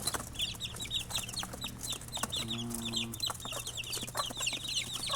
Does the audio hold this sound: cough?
no